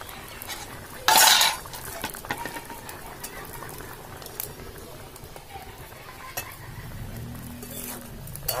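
Tamarind fish curry is stirred in a pan over an earthen stove: a sharp metal clank near the start, then soft scraping and a steady low simmer with scattered faint utensil taps.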